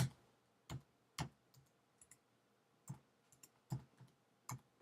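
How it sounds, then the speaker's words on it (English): Typing on a computer keyboard produces about eight sharp, separate key clicks in an uneven rhythm, close and fairly quiet against a faint background hiss. "we're just going to type Looney"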